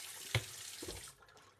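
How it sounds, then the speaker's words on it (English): A kitchen tap runs into a sink while a plate is rinsed, a steady close hiss of water with a brief knock near the start, cutting off before the end. "Sorry about the water, 1 second. I gotta rinse a plate real quick."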